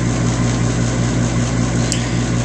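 Ice Troll vacuum laptop exhaust cooler fan running at its highest setting, a steady close whirring hum with a constant low drone and hiss, no break in level throughout.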